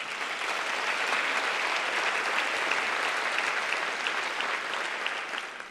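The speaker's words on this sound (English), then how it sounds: "let's give Director Melinda Carter and Director Greg Davies and their team a round of applause for this wonderful event" Luncheon audience at a small business conference gives a sustained round of applause, a dense, even wash of many hands clapping at steady volume throughout, with no talk over it.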